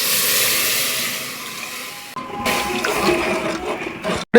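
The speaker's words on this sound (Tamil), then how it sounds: "இப்போ அரிசிக்கு தகுந்த மாதிரி தண்ணி கொஞ்சம் ஊற்றிக்கலாம்." Water pours steadily into a cooking pot of fried tomato masala, a continuous close rushing splash that shifts into bubbling and sizzling as it hits the hot pan, ending with a brief clatter.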